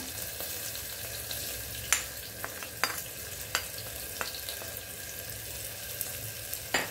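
Spices, including turmeric, byadgi chili powder, garam masala and red chili powder, sizzle in hot oil in a pan, with a steady soft fry and irregular clicks of a stirring spoon scraping the metal.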